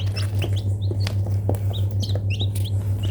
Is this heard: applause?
no